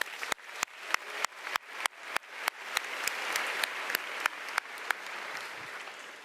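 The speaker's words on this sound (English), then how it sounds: "Let's give ourselves a big round of applause." Graduates applaud themselves at a high school graduation ceremony: a crowd's clapping underlies a regular train of sharp, loud claps from one or two nearby hands, roughly three per second, easing slightly toward the end.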